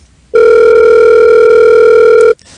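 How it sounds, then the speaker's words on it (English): A telephone line rings out on a call to an elderly household during a radio show, a single loud steady electronic tone held for about two seconds, alone with no talk. "I'll give them a couple more rings"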